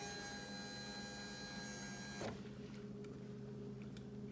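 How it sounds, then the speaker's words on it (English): Electric motor driving the power windshield up and down on a 2021 Indian Challenger motorcycle, a faint steady whine that stops abruptly partway through, leaving quiet background. "Windshield goes up and down."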